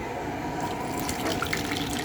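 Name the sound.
water running while washing bottles with hot water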